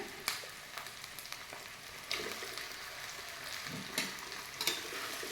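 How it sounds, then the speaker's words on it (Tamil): Onions and turmeric-salted chicken sizzle and crackle steadily in a hot pan, with occasional scraping stirs and pops, close and moderately quiet. "ஆனியன் வதங்கும் போதே நம்ம சிக்கனும் போட்டு நல்லா வதக்கலாம்."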